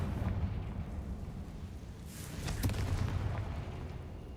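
A Confringo fire spell blasts in Hogwarts Legacy, a faint dull boom with a brief crackling burst near the middle, set against a low rumbling ambient bed.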